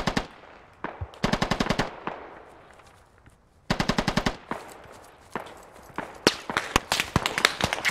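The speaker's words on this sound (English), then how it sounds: "Squad lead, tell squad two they're firing at friendlies on that hilltop." Rapid machine-gun bursts in the military shooter Squad crack out in quick strings, some close and loud, others sharper single shots and distant rattles, with no voices over them.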